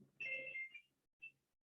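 A mobile phone ringtone chirps a short, bright electronic melody followed by a brief echoing note, close and clear in a quiet room.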